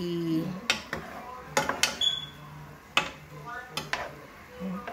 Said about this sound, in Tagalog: So, haluin natin.